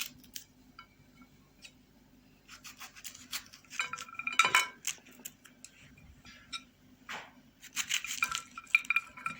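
Pomegranate seeds being broken loose from a cut fruit by hand, heard as scattered crisp clicks, taps and light clinks against a dish, in irregular bursts at close range over a faint steady hum, with no talking.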